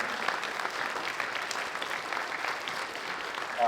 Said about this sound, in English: let's give another round of applause to all of our students who received outstanding ratings at district solo and ensemble